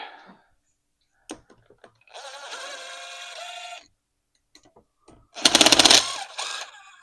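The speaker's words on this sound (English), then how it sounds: "I do not recommend tightening down, wrenching down with an impact, but I will loosen all day long with it." Impact wrench loosening bolts during a mirror install on a DRZ400 motorcycle: two sustained buzzing, hammering bursts, the second louder and rattling, separated by scattered clicks and handling knocks.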